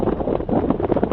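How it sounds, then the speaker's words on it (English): Strong south wind blowing across an outdoor microphone on a hot, humid day, a steady roaring rumble with gusty swells and no voices. "That hard south wind is blowing in."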